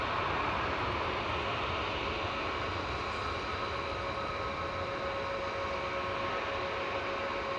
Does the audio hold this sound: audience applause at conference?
no